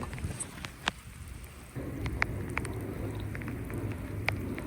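Steady rain pattering outdoors with scattered louder drops and a low wind-like rumble, fairly close and continuous, without speech.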